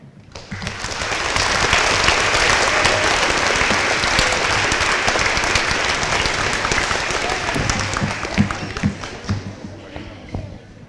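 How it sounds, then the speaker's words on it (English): Sustained applause from a large crowd at an elementary school Veterans Day event, loud and steady for most of the stretch, then thinning out toward the end with scattered claps. "One more big round of applause for all of our 4th and 5th graders"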